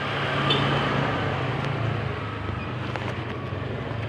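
A Yamaha RX King motorcycle runs with a steady, close two-stroke engine drone and a constant rumbling texture, heard alone with no talk.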